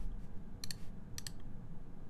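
A CarolinaMech Palmetto mechanical keyboard is typed on during a typing test, giving two quick pairs of faint, crisp key clacks over a quiet room hum.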